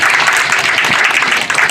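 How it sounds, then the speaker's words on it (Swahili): An audience at a scholarship beneficiaries' event applauds in a dense, steady burst of clapping that continues without a break for the whole moment, with no one speaking over it. "Pigia yeye makofi jamani."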